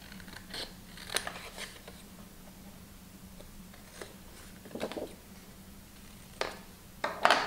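Scissors snip paper at the corners for a scrapbook album, a handful of short, close cuts spread out with rustling in between over a low steady hum.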